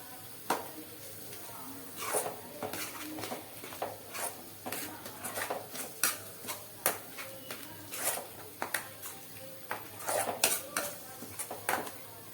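Chicken curry with garam masala and salt stirred in a pot for a ghee rice and chicken gravy dish, giving scattered clinks and scrapes of a spoon against the vessel, with faint voices between them.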